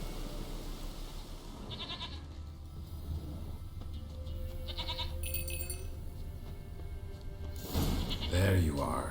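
A goat in the video game The Witcher 3 gives a few short bleats over quiet game ambience with faint thumps and music, and a voice speaks briefly near the end.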